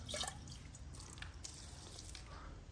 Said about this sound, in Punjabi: ਪਾਣੀ ਵਾਲਾ ਭਾਂਡਾ ਭਰ ਗਿਆ